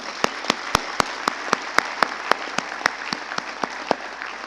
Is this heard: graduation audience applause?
yes